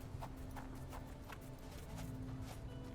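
Steady clip-clop of horse hooves in a video game, a regular rhythm of close, clear hoofbeats over a continuous low game soundscape.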